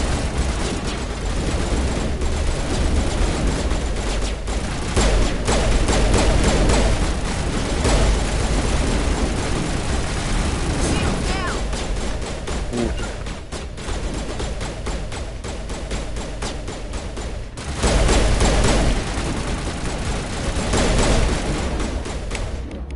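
Defensive turret in Mass Effect 1 Legendary Edition firing a dense, continuous barrage of booming shots and blasts for over twenty seconds, loud and close, with thicker bursts of fire near the start and again toward the end.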